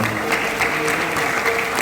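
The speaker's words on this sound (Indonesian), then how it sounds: "Saya pikir perlu tepuk tangan untuk Adinda ini" Audience applause at a Banyuwangi alumni association address, honouring the new Islamic student association branch chair: steady, dense clapping from a seated crowd, moderately loud and continuous for its short length.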